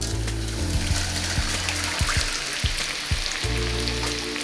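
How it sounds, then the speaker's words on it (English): Hot oil poured through a sieve onto chili flakes for homemade chili oil, giving a steady close sizzle and crackle with a few sharp spatters throughout, no voices. "pour in the oil on top of the chili flakes"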